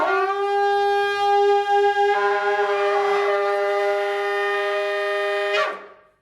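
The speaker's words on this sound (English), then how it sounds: "you can get two shofars and you can blow them at the same time." Two shofars blown at the same time: a loud, sustained, brassy horn blast holding a steady tone, with a second horn line entering partway through for a thicker combined sound before both cut off together.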